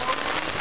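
Rain falls at night on a July 4th outing, a dense, loud hiss of drops striking surfaces nearby, continuous and without talk over it.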